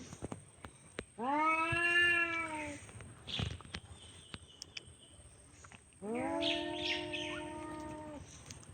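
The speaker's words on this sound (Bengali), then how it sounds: "এই যে বিড়ালের যুদ্ধ চলে।" Two loud, drawn-out cat yowls from a fight on a village road, separated by a quieter gap with scattered clicks and faint background sounds, close and clear.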